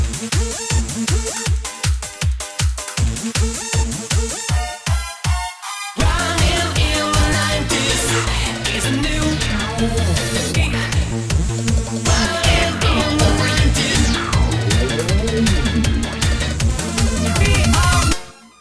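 Eurobeat passage from a FL Studio song remake where every part plays at once: a sparse pulsing beat opens, then the full dense arrangement of synths, keys, brass and drums crashes in loudly and runs to an abrupt stop.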